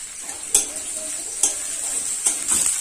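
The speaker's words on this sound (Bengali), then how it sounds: "পেঁয়াজটা লাল লাল করে ভেজে নেব" Onions sizzle in hot oil in a pan while a utensil stirs them, scraping in three or four distinct strokes over a steady, close frying hiss.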